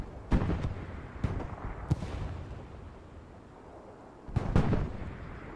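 Explosions boom through a video game battle, scattered dull blasts and pops, with a heavier cluster near the end, moderately distant under a continuous rumbling din, no voices.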